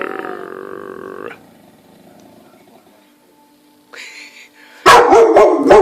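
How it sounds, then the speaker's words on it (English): A pet dog lets out a deep, sustained growl and then bursts into loud barking, close to the microphone. "That's a deep, meaningful growl right there."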